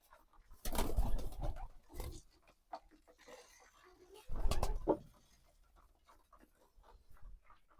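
Pigeons coo softly with low throaty calls, mixed with shuffling and fluttering sounds nearby.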